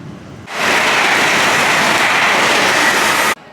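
A London Underground Bakerloo line train pulls into a station platform, a broad steady rushing roar that swells in and stays loud for about three seconds before cutting off sharply.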